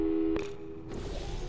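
A telephone busy signal from the video game Portal 2: a steady, loud two-tone hum that holds for about a second, then fades into a low electronic background.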